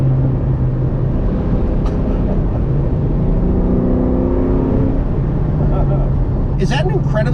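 A New Edge Ford Mustang on lowering coils drives a winding road, its engine droning steadily inside the cabin with a rising and falling pitch through the corners and a brief rev change near the end.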